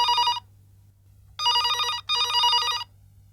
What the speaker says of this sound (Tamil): டெலிஃபோன் பண்ணி அடிக்கிற சத்தம் கேட்குதுல்ல, போய் எடு.